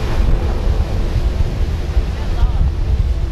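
Strong waves crash into the surf with heavy, continuous broadband roar and low rumble, loud and close, mixed with gusty wind buffeting the microphone.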